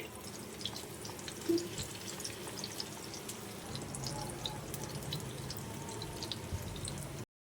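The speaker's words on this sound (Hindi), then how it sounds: "अब हम इसमें फ्राई करेंगे चपली कबाब।" Chapli kebabs frying in oil in a pan, a steady close crackle and sizzle with scattered pops and spits, even in level, without talking, ending abruptly.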